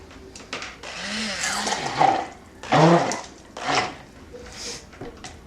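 Blender pulsing a soap cupcake mixture scented with espresso, giving several short whirring bursts with pauses between them, close by, with kitchen clatter around them.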